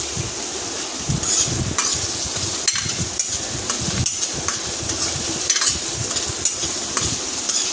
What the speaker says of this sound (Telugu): ఉల్లిపాయ, పచ్చిమిర్చి, టమాటా, కొత్తిమీర ఇవన్నీ వేసాను. ఇప్పుడు ఏంటంటే వేపుతున్నాను.